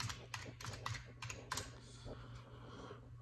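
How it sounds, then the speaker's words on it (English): Fast, uneven bursts of typing on a computer keyboard, close and crisp, with clusters of key clicks separated by short pauses and a steady low hum behind. "let me type in Tavush, Tavush, Armenia."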